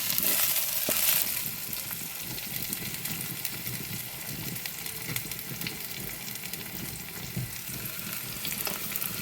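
Fenugreek seeds sizzle in hot oil in a pan with onion and garlic, part of a dried fish curry. A dense, steady crackling fry sounds up close, with faint stirring clicks and no talking.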